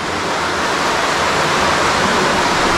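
Water rushing through an underground river cave, a loud, steady broadband roar of flowing water filling the space without pause or voices.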